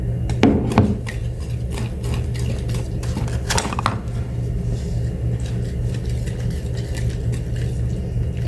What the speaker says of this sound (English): Now we're gonna whisk it together.